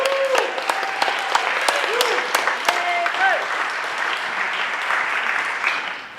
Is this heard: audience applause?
yes